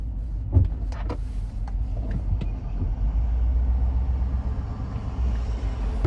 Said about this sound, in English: School bus zooming through here.